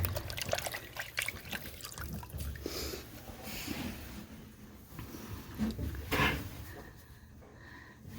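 Water trickles and splashes into a bucket being filled to wash a dairy cow, an uneven running dribble with occasional louder gushes and a few clunks, close by and continuing throughout.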